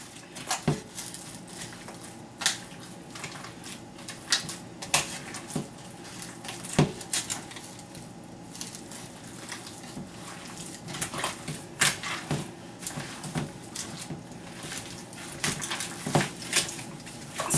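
Burger meat being mixed with paprika and seasonings in a bowl for the grill, with soft repeated squelching pats and occasional clinks of utensils against a dish, steady and close with no talking.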